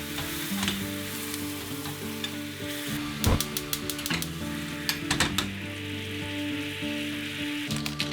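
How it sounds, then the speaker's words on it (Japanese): Mirin simmering in an empty frying pan, a steady loud sizzle and bubble with a few sharp clinks of a utensil against the pan, no voices. "空いたフライパンでみりんを3分煮詰めます。"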